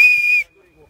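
A referee's whistle at a volleyball match gives one loud, steady, shrill blast lasting under half a second, then cuts to near silence.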